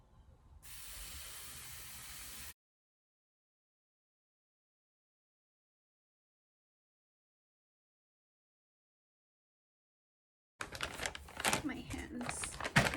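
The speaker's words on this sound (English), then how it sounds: "so I'm using that for hairspray" Hairspray sprayed onto hair gives a steady close hiss for about two seconds, then silence, then a stretch of rustling and handling.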